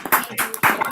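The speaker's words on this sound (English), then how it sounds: "I invite everybody to unmute and so Michael can hear us clapping." A few uneven claps from people clapping over an online video call at a conference, thin and slightly compressed, coming in about three short bursts.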